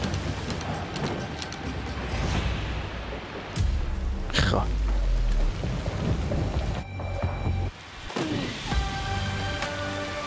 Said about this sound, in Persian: طوفان هم داره شدت میگیره